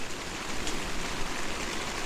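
Rain falls steadily on a camping shelter during a solo trip, a soft, even hiss of pattering drops without breaks, fairly quiet and uniform.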